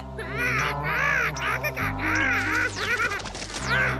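Cartoon jungle crow cawing in several harsh, repeated bursts, loud and close, set against background music and a busy mix with occasional clattering.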